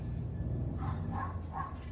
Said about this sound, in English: we'll go ahead and stop because of the dog barking.